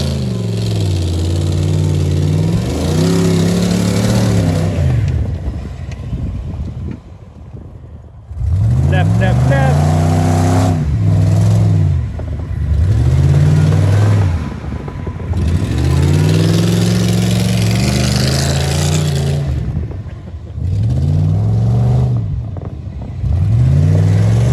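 A Dodge Durango 4x4 on studded tires climbing a hill, its engine loud and close, surging and revving in repeated bursts with brief easing between, while someone talks over it.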